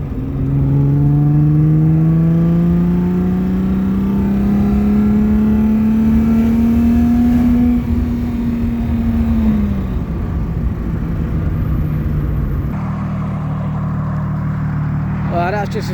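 An Alfa Romeo GTV6 with the 2.5 Busso V6 pulls through the gears, loud steady engine tone climbing in pitch from inside the car, then easing off as a voice speaks.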